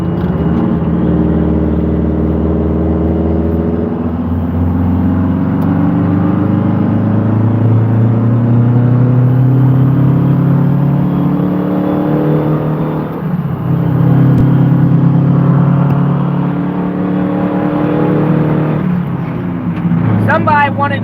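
A loaded truck's engine revs up in long climbing pulls, dipping and rising again with each gear shift, loud and close from the cab, with someone talking over it at times.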